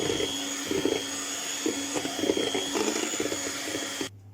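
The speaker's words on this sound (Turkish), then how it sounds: "Gıda boyamızı iyice yedirmemiz için biraz çırpmamız gerekecek." An electric mixer whirs steadily as it whisks watermelon cake batter with food coloring, a constant close motor drone with slight strain shifts as the beaters work, then cutting off abruptly near the end, with no talking.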